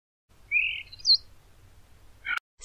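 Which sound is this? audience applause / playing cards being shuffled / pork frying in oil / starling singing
starling singing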